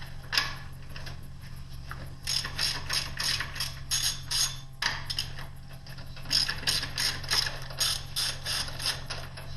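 A hand ratchet fitted with a 3/4 inch socket works on the four main bearing bolts of an M-23, giving rapid repeated clicking bursts with short pauses, close and clear against a low steady hum.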